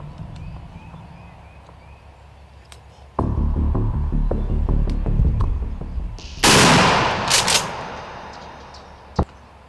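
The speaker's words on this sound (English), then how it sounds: "Awful long shot, Hoff." A shotgun fires at a turkey during an outdoor hunt: one loud, sharp blast cuts through a low rumbling background. A brief crack follows a few seconds later.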